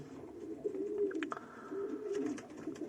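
Young pigeon nearly a year old cooing softly nearby, a few low throaty coos repeated over a quiet background with faint fluttering sounds.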